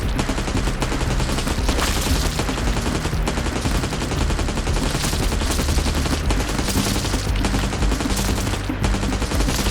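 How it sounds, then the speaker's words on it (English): Rapid, dense gunfire from a video game sound design demo built in Unreal and Wwise, sustained automatic bursts with a punchy impact, loud and continuous across the whole stretch without speech. "I love the way the gun sort of feels. Really, it's much better with that impact at the beginning."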